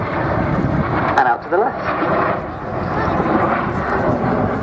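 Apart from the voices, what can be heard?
Folland Gnat vintage jets flying in formation at an air display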